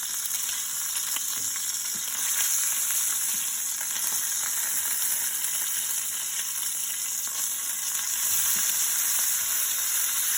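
Bacon-wrapped meatloaf fries in a hot pan with a steady, dense sizzle that holds close and even throughout, with a few faint stirring or shifting sounds and no talking.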